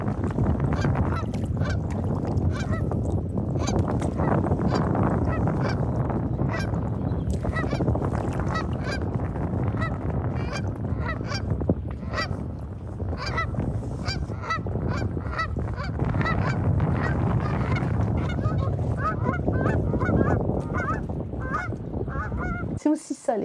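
Barnacle geese honk on a Scottish loch, a dense, continuous chorus of many overlapping calls, some close and loud, others farther off, that carries on throughout without letting up.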